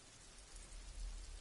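Steady rain pouring down in the video game Disco Elysium, a dense even hiss of drops on surfaces, faint and continuous with no voices.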